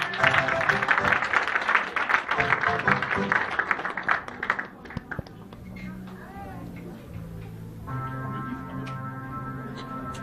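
A church congregation applauds to welcome a pastor, a loud crackling wave of many hands clapping for several seconds that fades out as music and a voice take over.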